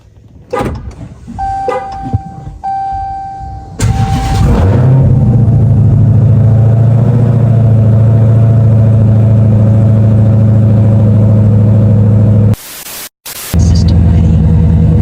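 A Dodge Hellcat starting by remote start: after a few electronic chimes and clicks, the engine fires and settles into a steady, loud, close idle rumble, broken near the end by a brief rustling dropout.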